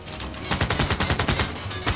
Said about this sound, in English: Okay, 2 more shots from this machine gunner up here.